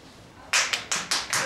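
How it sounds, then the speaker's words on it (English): Bare hands clap on a small improv comedy stage, five sharp, close claps in a quick, slightly uneven rhythm after a brief quiet moment. "Did you just clap?"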